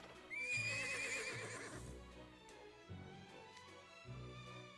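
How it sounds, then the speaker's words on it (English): A horse in the video game Twisted Wonderland whinnies loudly once, followed by rhythmic hoof clip-clops, with faint music in the background. "Are you riding a horse, Ethel?"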